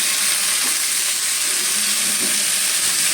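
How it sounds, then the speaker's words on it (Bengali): Vegetables frying in oil and being stirred in a pan for a Bengali fish curry, a steady close hiss of sizzling throughout with faint scraping of the spatula underneath. "তেলের মধ্যে কিছুক্ষণ ভাজি করে নেব"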